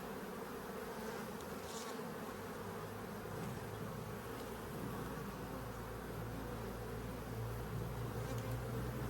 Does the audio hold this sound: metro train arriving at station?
no